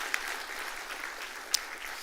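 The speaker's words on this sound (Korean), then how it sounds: "여러분 이 시간 격려 박수 부탁드립니다" A church audience gives a round of encouraging applause: a continuous wash of many hands clapping at a steady level, with a couple of sharper individual claps standing out.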